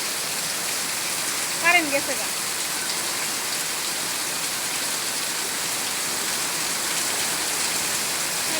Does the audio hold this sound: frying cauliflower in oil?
no